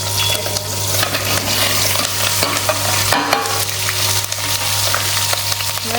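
Green chilies fry in hot oil in a Gujarati village kitchen, a steady close sizzle with occasional stirring scrapes over a low constant hum.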